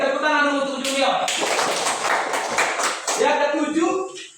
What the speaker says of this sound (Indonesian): Oke, tepuk tangan dulu untuk junior